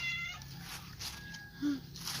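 A cat meows in a few short, close calls over faint background noise and distant voices.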